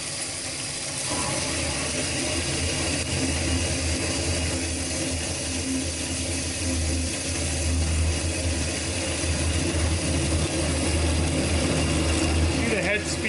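A Linmac WV-310DS double miter bandsaw cutting metal, with a steady mechanical drone and grinding hum running throughout while someone talks over it.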